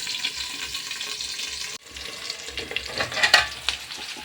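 Curry leaves fry in hot oil for a fenugreek leaf dish, crackling loudly and spitting. A sharp burst of popping comes near the end. No one speaks.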